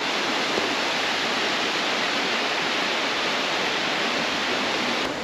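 Fantail Falls in New Zealand's Haast Pass pours in a steady, full roar of rushing water, close and constant with no break and no voices.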